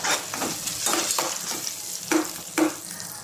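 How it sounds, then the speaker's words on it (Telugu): Ginger garlic paste fries in oil for upma, hissing close up while a spoon stirs it around the pan in several distinct scraping strokes, with no one talking. "అల్లం వెల్లుల్లి పేస్ట్ వేసుకుందాం. వేసుకొని ఒకసారి కలుపుకుందాం."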